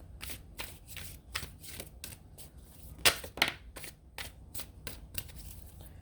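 Tarot cards being shuffled up close in quick repeated riffles and soft slaps, irregular bursts separated by brief pauses.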